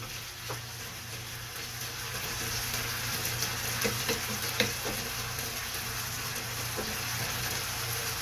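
Igado cooking in a pan as vinegar goes in, a steady soft sizzle with occasional crackles and pops, faint and continuous with a low hum underneath.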